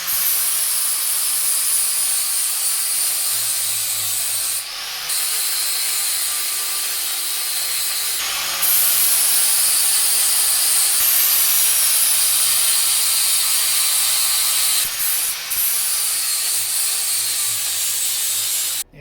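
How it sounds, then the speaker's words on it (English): A 60 grit flap disc on an angle grinder works over Yamaha XS650 motorcycle engine parts, a loud continuous high abrasive hiss with a few short breaks and shifts in pressure, no voices. "Now it's time to hit it. The 60 grit flap disc."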